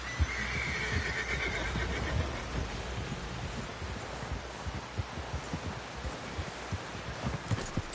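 A horse whinnies in Red Dead Redemption 2 over a noisy scene of dull thumps and steady background rumble.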